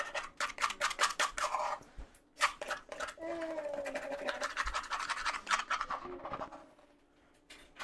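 Thai red curry paste being ground for braised lamb, a run of dense scraping, grinding strokes in quick rhythm, close and fairly loud, with a person talking softly over part of it.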